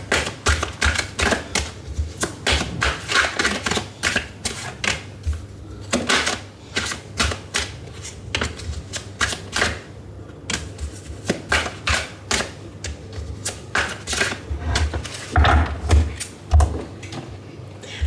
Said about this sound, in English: I don't usually shuffle the way I have done right now.